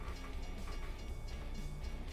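A train rolls past a railroad crossing in American Truck Simulator, a steady rumbling clatter of rail cars that stays even and fairly close throughout.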